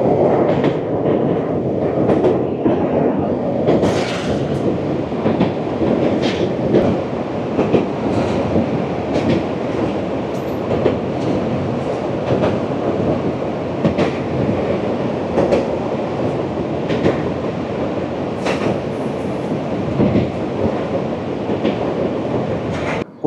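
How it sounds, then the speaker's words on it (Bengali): The Jammu Tawi Express runs on the rails past Madhavpur station in Punjab, a steady loud rumble with rhythmic clickety-clack and occasional wheel squeal throughout, with no voices. "আমাদের ট্রেন পার করছে মাধবপুর পাঞ্জাব স্টেশন"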